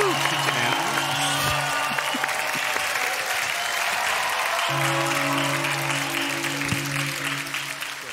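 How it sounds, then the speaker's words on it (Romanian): Stand-up comedy audience applauding as comedian Cezar Oatu is introduced, dense sustained clapping from a full room with a steady hum of instruments or tones underneath, holding loud for the whole stretch. "aplauze pentru"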